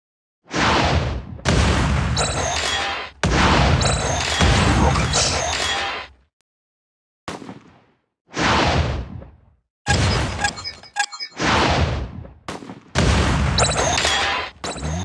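In a video game, rockets fire and explode in a series of loud booming blasts, each a long roaring burst, separated by brief moments of near silence.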